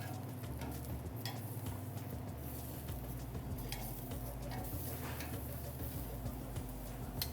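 Grilled peaches hiss and crackle against hot grates in a busy steady sizzle, with scattered ticks and a low background hum running underneath.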